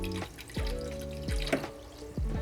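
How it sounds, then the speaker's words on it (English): Water runs from a kitchen tap into a pot for macaroni, a steady close rush with a tonal whine that dips in pitch several times. "then we're gonna grab some water from the tap over here for our macaroni"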